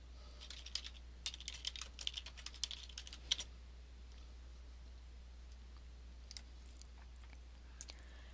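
Soft, rapid typing on a computer keyboard while entering catalog data, a dense run of close key clicks for a few seconds, then a few scattered taps over a low steady hum.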